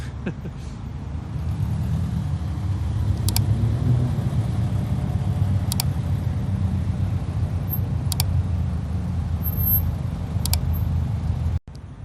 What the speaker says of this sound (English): bringing his car over now so we can get them lined up behind